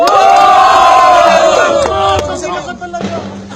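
A large crowd at a FlipTop rap battle cheers and shouts loudly all at once, a roaring wall of voices that gradually thins and settles toward the end.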